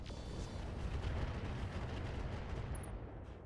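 Heavy weapons fire from battle mechs in the RogueTech BattleTech strategy game roars as a dense, rumbling barrage of blasts. It is sustained and muffled and tails off slightly at the end.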